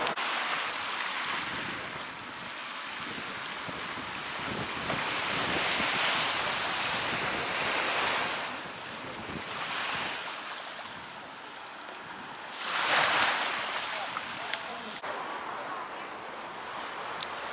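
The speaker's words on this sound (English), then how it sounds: "I do love that sound of sea just rolling in and rolling back out" Sea waves surge onto the shore beside the Penzance promenade and draw back out in slow, repeated swells, mixed with wind noise on the microphone.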